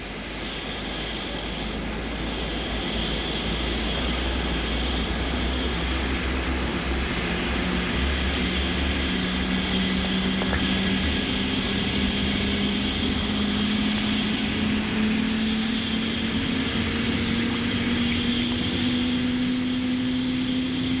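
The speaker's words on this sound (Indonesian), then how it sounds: "sama-sama kita sudah mendengar suara pesawat" An airplane engine runs steadily before takeoff, carrying the departure aircraft for Pope Francis at an airport: a loud, continuous jet roar with a slowly rising whine, with no talk over it.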